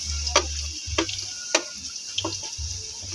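Three whole heads of native garlic fry in a pan toward golden, with a soft steady sizzle, a low hum and a few sharp clicks of a utensil at regular intervals, close by.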